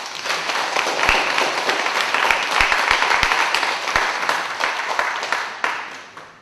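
A church congregation applauds steadily at a Korean service, with dense clapping that stays loud and fairly even throughout, several sharper individual claps standing out.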